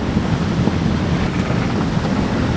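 Strong wind of about 20 knots roars across the microphone while a sailboat beats through choppy seas, a loud continuous rushing wash of wind and waves with no talking.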